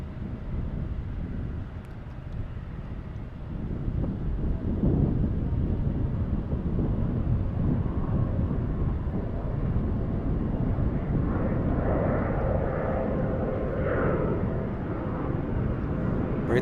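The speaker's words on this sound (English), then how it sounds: "Good old British Airways." A British Airways airliner landing at DFW Airport produces a steady, broad jet roar mixed with wind buffeting on the microphone, swelling slightly and holding loud and constant throughout.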